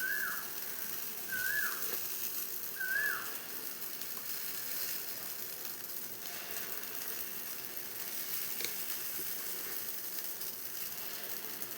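Pongadala batter is poured into the cavities of a hot pan, raising a steady close sizzle with a few faint high chirps near the start and no talking.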